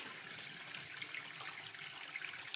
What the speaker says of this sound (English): get the water turned on.